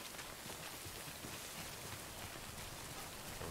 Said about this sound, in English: The rain is a lot heavier than it was last time